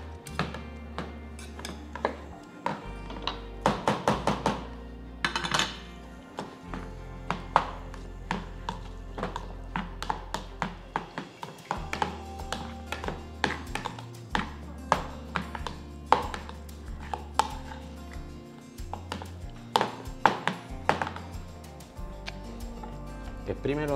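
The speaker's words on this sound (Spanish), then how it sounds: "Ahora corta limón y vamos a exprimir el limón dentro." A knife cuts a lemon on a board while a tuna tartare is prepared at a cooking demonstration at a seafood fair, giving a steady run of sharp, close chopping knocks with a low background hum and occasional voices.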